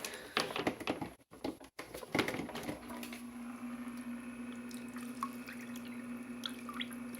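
An Aqueon Quiet Flow internal power filter for a 20-gallon aquarium runs with splashing, dripping water at first, then settles into a steady trickle over a constant low motor hum, close by.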